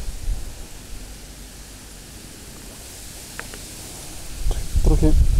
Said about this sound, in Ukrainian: Трохи вітерець зірвався.